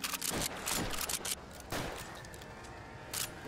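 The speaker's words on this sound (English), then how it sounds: "Oh, we're gonna do some shooting." Gunshots from a handgun in the L.A. Noire VR game, several sharp reports in an irregular burst, loud and close, with game ambience between them.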